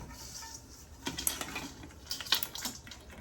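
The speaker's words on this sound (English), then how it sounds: "Now we go put them crawfish in there, toss them bad boys in there." Crawfish are tossed into a pot of boiling water with butter, giving a few close splashes and clattering knocks against the pot over a low bubbling background, with no voices.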